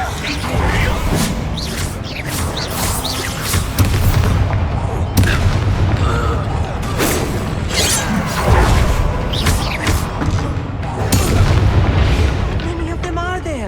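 Bombarda and Confringo blasting spells in Hogwarts Legacy on PS5: repeated loud booms and sharp bursts through a busy fight, with several strong impacts spaced over the stretch and voices talking intermittently amid the clatter.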